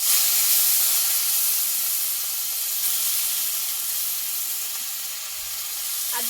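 Panch phoron and ground spice paste sizzle in hot oil for a gathi kochu curry, a steady bright hiss that stays close and loud, easing slightly toward the end, with no talking.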